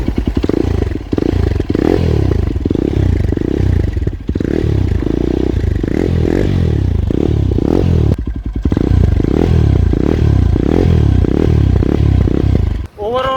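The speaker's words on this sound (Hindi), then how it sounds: "अब बात करते हैं अपन इसके एग्जॉस्ट के साउंड की, है ना। मैं आइडियल साउंड आपको इसका सुनाता हूँ।" Yezdi Adventure 2024 motorcycle exhaust at idle, a loud, close, steady thumping chug with a pulsing rhythm, continuous through the clip with brief dips and a slight blip near the end.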